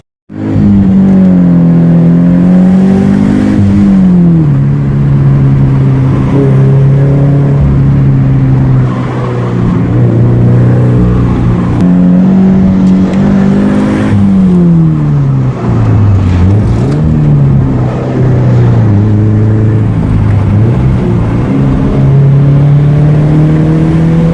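A 2015 Subaru BRZ engine roars loudly and steadily from inside the cabin, pitch climbing and dropping as it shifts through gears under hard acceleration.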